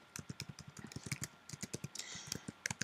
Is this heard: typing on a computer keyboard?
yes